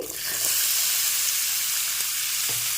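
Finely chopped carrots fry in hot oil and seasoning for peas pulao, a bright continuous sizzle that swells in at the start and holds steady, with a few faint stirring taps, close and without speech.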